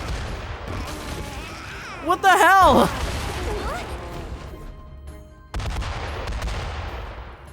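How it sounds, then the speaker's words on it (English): Explosions in the Persona video game go off as a burst of booming, crashing blasts under a steady background rumble, while a player's voice reacts over the noise. "Why are there explosions?"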